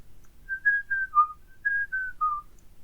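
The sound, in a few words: person whistling a tune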